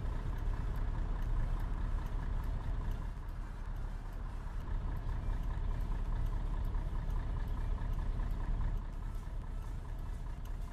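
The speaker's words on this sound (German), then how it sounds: "Ziemlich lauter Motor." A loud bus engine idles in the driving simulator game Omsi 2, a steady low rumble with a faint repeating pulse that continues unbroken throughout.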